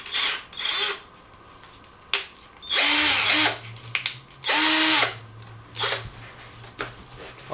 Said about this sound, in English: start drilling a hole directly through there